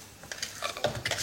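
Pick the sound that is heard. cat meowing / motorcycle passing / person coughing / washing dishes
washing dishes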